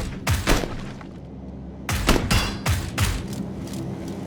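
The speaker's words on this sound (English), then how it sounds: "Shooting the stupid windows." Gunfire in the shooter game PUBG strikes windows in several loud bursts of rapid booming shots, each cluster separated by a short pause.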